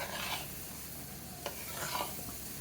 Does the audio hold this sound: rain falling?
no